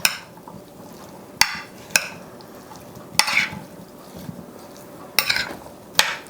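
Seasoned dump-and-bake dinner ingredients are tossed together in a dish in a home kitchen. A utensil gives several sharp clacks and scrapes against the dish, with soft stirring rustles between the hits and no talk.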